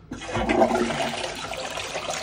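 A Japanese toilet flushes up close with a sudden rush of water that swirls and gurgles steadily, then trickles on to the end without any talking.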